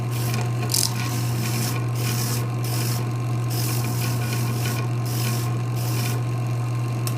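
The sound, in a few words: hand file shaping a boot comfort seat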